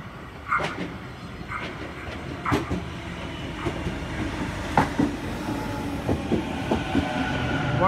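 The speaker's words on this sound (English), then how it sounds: "We have a Waratah approaching platform number 2" A Sydney Waratah electric train pulls into platform 2 at night, with steady rolling rumble, repeated clicks and clunks of wheels over rail joints, and a few faint squeals as it arrives, close and continuous.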